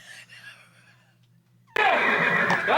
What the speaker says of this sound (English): we don't hear the horse make a noise until it's gone out of shot